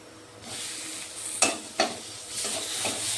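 Chopped tomato sizzles and fries with spices in a pan for a Bengali soybean bori dish, a steady hiss broken by two sharp scrapes of stirring, close and moderately loud.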